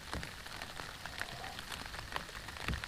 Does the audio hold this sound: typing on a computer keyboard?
no